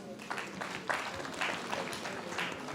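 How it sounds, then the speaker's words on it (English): An audience at Lafarge Africa Plc's annual general meeting claps in a brief, fairly faint round of applause with uneven bursts. "I want to appeal to my members to give a round of applause to the"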